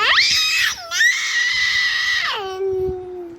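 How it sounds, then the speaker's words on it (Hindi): A young child screams indoors at home, a loud, close, high-pitched wail in two rising bursts with a brief catch between them, then trailing into a lower sustained cry. "ये ऐसे चिल्लाते रहेगा।"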